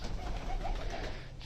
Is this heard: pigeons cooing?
yes